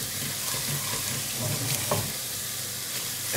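An onion and spice mixture for a Bangladeshi-style fish curry sizzles steadily in a pan while being stirred, a dense close hiss with faint scraping underneath, alone without talk.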